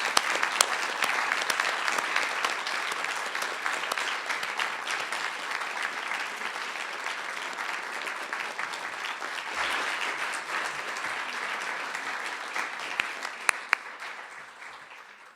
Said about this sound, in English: let's give our debaters a big round of applause